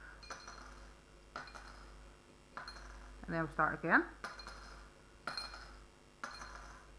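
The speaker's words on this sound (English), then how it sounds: "So one by one we're going to put them into the glass." Small dry pasta pieces dropped one at a time into a glass, giving a string of sharp clinks spaced roughly a second apart, with a voice talking briefly in the middle.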